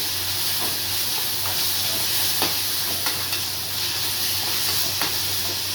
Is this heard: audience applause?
no